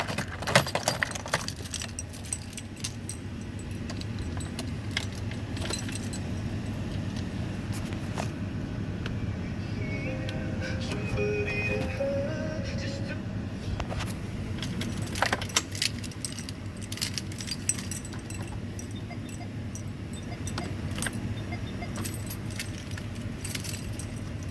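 A bunch of keys jangles near and fairly steadily during work on a 2005 Renault Master van, light metallic clinks and rattles that continue over a low background hum, with no talk.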